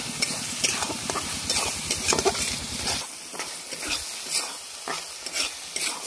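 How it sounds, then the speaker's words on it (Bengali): A spiced tomato paste with a little sugar being stir-fried in a pan for a Bengali dried lote fish curry, with steady sizzling and rhythmic scraping stirs that loosen after the first few seconds, close and alone. "মশলাটা ভালো করে কষিয়ে নিয়েছি"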